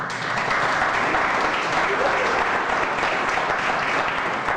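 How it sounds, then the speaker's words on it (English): Dense, steady applause from the audience at a Homer Glen board meeting for award winners, continuous clapping at an even level throughout. "Let's give all the award winners a round of applause."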